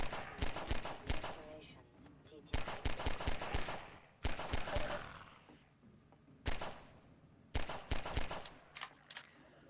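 Gunfire in the video game Half-Life 2, heard as five rapid bursts of automatic shots separated by short pauses, loud and close, with a low background rumble between bursts.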